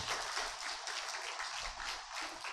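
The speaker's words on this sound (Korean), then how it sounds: "오늘 우리에게 주신 메시지를 감사하면서 하나님 앞에 다시 한번 우리와 함께 해주시라고 박수로 영광" A church congregation gives sustained applause, a steady wash of many hands clapping together at moderate loudness.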